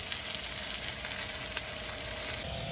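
Salmon sizzles steadily in a pan with avocado oil and butter, a constant bright frying hiss that holds at an even close level throughout with no voices.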